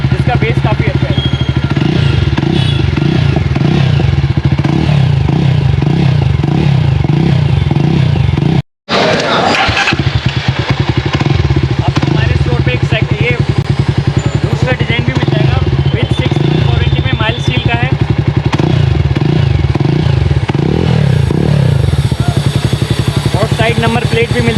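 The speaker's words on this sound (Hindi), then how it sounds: "सेकंड एग्जॉस्ट की साउंड सुना रहे हैं बाइक में" Jawa Classic motorcycle fitted with a second, dual-sided Rooster-style exhaust, running with a steady deep rumble throughout, briefly cut off near the start, with crowd babble and voices in the background.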